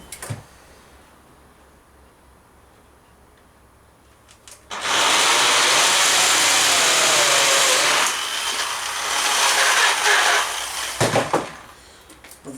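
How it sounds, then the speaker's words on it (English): A handheld power file runs loudly against metal armour for an arm harness in a workshop, a steady grinding roar lasting several seconds that starts after a quiet stretch and ends with a few brief rattles. "What I've done is just drilled the hole, tidied that out with the power file."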